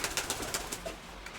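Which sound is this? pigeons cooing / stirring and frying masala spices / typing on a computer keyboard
pigeons cooing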